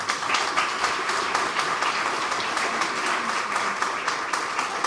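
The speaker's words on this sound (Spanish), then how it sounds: "Un fuerte aplauso, por favor." An audience at a book presentation applauds with a dense, even patter of clapping hands that holds steady throughout.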